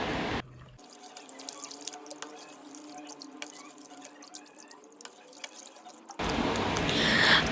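A spoon stirs a room-temperature water and mothball floor-cleaning solution in a container, giving a steady wet swishing with small clinks and drips throughout, close and fairly quiet, with no talking.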